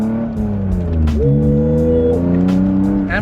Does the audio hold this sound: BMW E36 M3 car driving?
yes